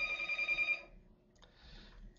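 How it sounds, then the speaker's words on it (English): A telephone rings for an incoming call, one clear electronic ring burst that fades, followed by quiet room noise. "I was interrupted by a phone call"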